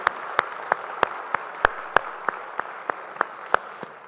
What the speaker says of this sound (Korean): 우리 찬양 박수 주님께 영광의 박수 올리겠습니다.